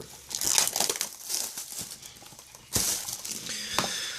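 Plastic shrink wrap crackles and crinkles as it is peeled off a Star Wars Rebels DVD case, close and fairly loud, with a sharp burst of tearing partway through and no voices.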